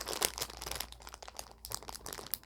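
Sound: package being opened, crinkling

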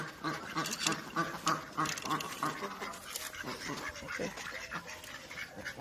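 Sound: duck

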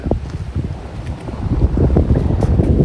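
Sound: strong wind

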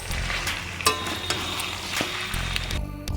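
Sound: potatoes stirred into frying spiced mutton

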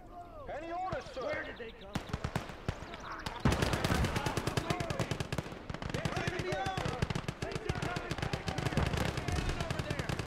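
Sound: machine gun fire in the video game Gates of Hell Ostfront

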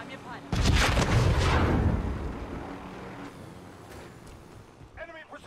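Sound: enemy precision airstrike explosions in a video game

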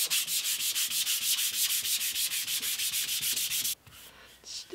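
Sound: hand sanding wood table with 400 grit sandpaper

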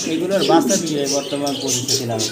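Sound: pigeons cooing

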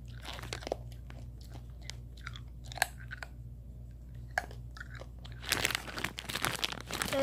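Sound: chewing a hard Warheads sour candy

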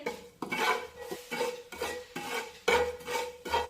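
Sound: sautéing coarsely ground coriander and fennel spices in a pan

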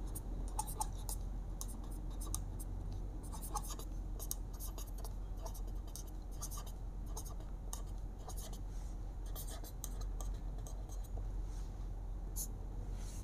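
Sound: writing with a pen

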